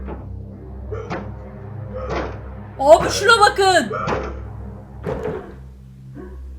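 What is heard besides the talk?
banging on a door in video game Life of Luxury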